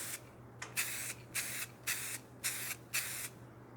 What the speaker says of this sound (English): we can just lightly hit this with our spray lacquer